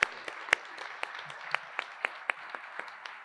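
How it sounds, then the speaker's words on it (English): Scattered, sparse clapping from a conference audience at an opening welcome session in Vancouver, a dozen or so separate claps spread unevenly over a few seconds rather than a full roar. "If we can give them a warm round of applause."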